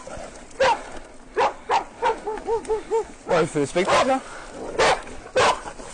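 Small dogs bark close by in short, sharp yapping bursts and a run of quick yips, while someone talks over them.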